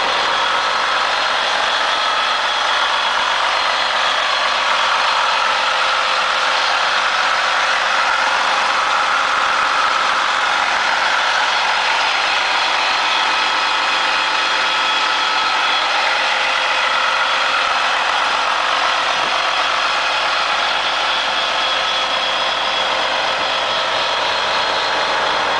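A 1994 MCI 102-D3 coach bus engine idles in a continuous, even drone heard close by, unchanging for the whole stretch with no talking.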